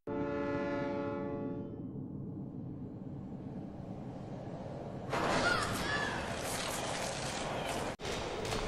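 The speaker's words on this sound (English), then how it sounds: "I hear a train coming." A train horn sounds in the video game Resident Evil Outbreak, then a rumbling train rolls closer over steady rattling noise, growing louder and harsher toward the end.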